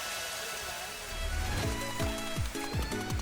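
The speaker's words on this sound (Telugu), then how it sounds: "ఇక్కడ కూడా బాగా వాన పడుతుంది." Heavy rain falls in Calicut, a steady loud wash of downpour with repeated low rhythmic thumps joining partway through, close by and with no talk.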